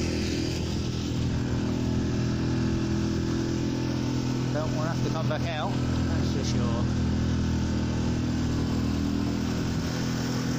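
A boat's engine runs steadily while motoring with the wind behind, a constant low drone that holds throughout as people talk over it.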